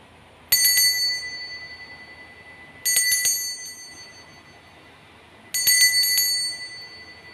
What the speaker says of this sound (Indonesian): di sini kita akan memulai saja dengan ditandai lonceng berbunyi